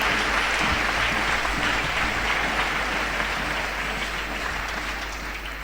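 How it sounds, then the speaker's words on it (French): A church congregation applauds together for a 25th anniversary, dense steady clapping filling the room, loud and sustained before easing slightly at the end. "Et je voudrais que vous acclamez le Seigneur pour un quart de siècle"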